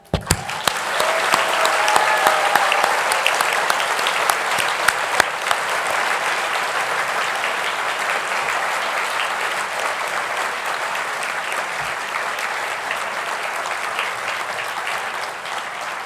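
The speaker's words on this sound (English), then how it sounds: "join me in giving a thunderous applause to celebrate that class" An audience at the SSIS 2024 graduation ceremony applauds the graduating class, with dense, sustained clapping from a large crowd that swells at first and then holds steady throughout.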